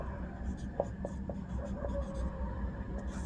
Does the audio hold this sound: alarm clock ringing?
no